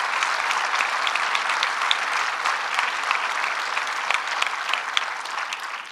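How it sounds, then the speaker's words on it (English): A crowd at a groundbreaking ceremony for the historic TWA Flight Center Hotel applauds loudly and steadily for several seconds, dense clapping that tapers slightly at the end. "So let's give him a big round of applause, Tyler Morse."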